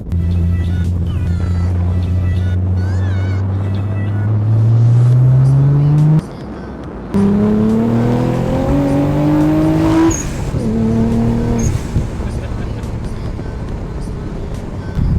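A 600-horsepower Nissan 300ZX Z32 twin-turbo V6 accelerates hard, its loud, close engine note climbing in pitch through the gears with a brief drop at each shift before it pulls higher again.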